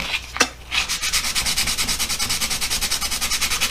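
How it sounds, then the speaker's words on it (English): Sanding pad scuffing the steel oil pan on a custom Bone Shaker build, a steady rapid rhythmic rasping that runs continuously and close, preceded by a brief sharp scrape near the start. "And you can see it scuffing up the oil pan really good now."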